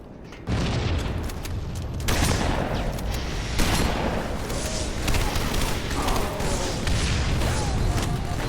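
Gunfire in the Halo 3 video game, with dense continuous bursts of shots and booms throughout, loud and close, under occasional talk.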